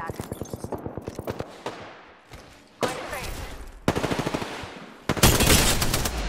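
Apex Legends gunfire comes in rapid rhythmic bursts of automatic shots, broken by short gaps, then loud sustained volleys near the end, with some talking mixed in.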